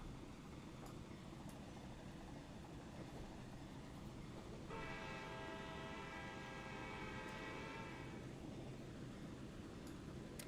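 Model train locomotives rumble steadily along the track, with a sustained horn-like tone sounding midway for a few seconds over the continuous running noise.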